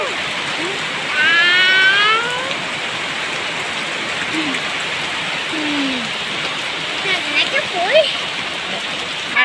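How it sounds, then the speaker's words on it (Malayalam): Heavy rain pours steadily around a home, a dense, continuous hiss that stays close and loud throughout, with a few faint bird-like chirps and whistles rising over the downpour. "മഴ കുറയുമ്പോഴത്തേനും പോകാം."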